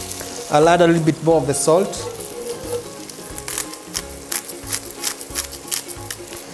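Vegetables for a spicy pumpkin lemongrass soup fry in oil and margarine, a steady sizzle under a voice for the first two seconds, then continuing alone with soft rhythmic stirring or scraping.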